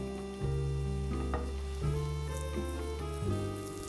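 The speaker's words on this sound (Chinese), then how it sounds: "再煎一会儿" A patty fries in a pan, a soft continuous sizzle under faint tonal background sounds, quiet and close.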